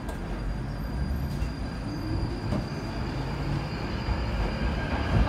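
A London Underground train at rush hour rumbles steadily, with a dense low roar and wheel noise that stays constant and loud throughout and no voices.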